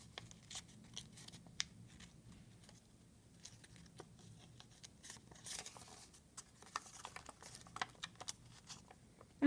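Scissors snip and crunch through origami paper in quick, irregular cuts, faint and close, with soft rustling between cuts.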